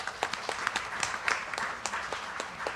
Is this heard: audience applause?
yes